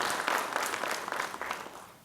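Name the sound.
audience applause at a formal ceremony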